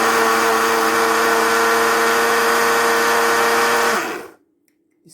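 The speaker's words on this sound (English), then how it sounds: "That is my white lassi blending." Blender whirring loudly as it mixes yogurt, milk and sugar into a sweet white lassi, a steady close motor drone for about four seconds before it switches off and spins down to silence.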